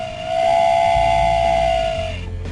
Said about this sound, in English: Stacy, knock it off at the whistle.